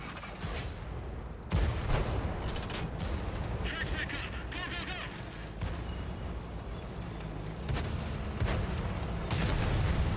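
A tank cannon in World of Tanks on console fires with heavy, booming blasts near 1.5 and 9 seconds, set over a continuous low rumble of engines and battle noise.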